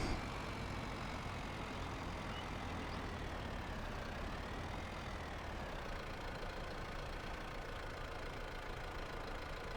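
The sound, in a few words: tractor engine running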